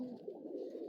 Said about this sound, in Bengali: এই যে কবুতর